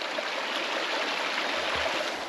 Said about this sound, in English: there's a nice little spring-fed creek here